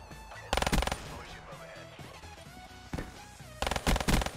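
Bursts of gunfire from a first-person shooter game, arriving in two loud clusters of rapid shots over a steady backdrop of game music and ambience.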